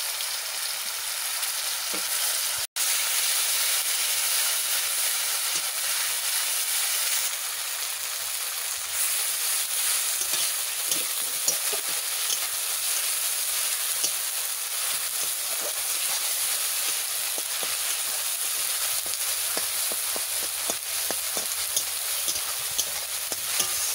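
Ground spice paste fries in hot oil for a chicken dish over an open flame, giving a loud, steady, close sizzle that runs unbroken throughout, with one sharp click early on.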